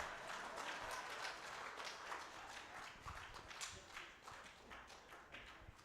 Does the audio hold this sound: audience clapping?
yes